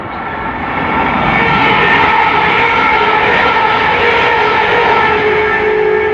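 Steady loud rumble of a train running fast on rails at about 70 near Northumberland Park, London, a continuous roar with a whining tone, no voices.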